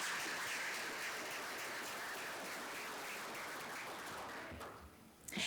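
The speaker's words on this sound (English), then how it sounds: "Let's give them a round of applause." Audience applause at a Carnegie Mellon alumni awards ceremony for the alumni board of directors, a sustained dense crowd clapping that gradually thins and fades near the end.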